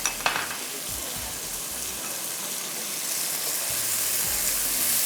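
Kofta masala frying in a pan on the stove, a steady close sizzle with occasional scrape-and-stir noises and a couple of light knocks at the start.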